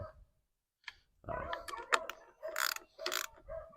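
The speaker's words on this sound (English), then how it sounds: "So take your 10mm ratchet. You want it tight, but don't break it." A 10mm ratchet tightening the quarter-inch mounting bolts of a light bar on a Bronco, with bursts of quick close clicking separated by short pauses.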